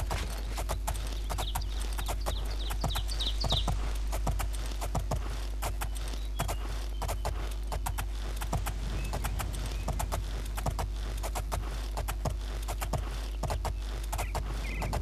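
Horse hooves clip-clop steadily in the video game Oblivion, a continuous rhythmic series of hoof strikes over a low constant hum, moderately close and lasting the full fifteen seconds.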